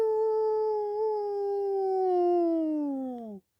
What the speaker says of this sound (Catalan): El llop udola.